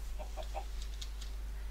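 Chickens cluck in a Minecraft-style survival game: a few soft, short clucks in quick succession, faint against a steady low hum.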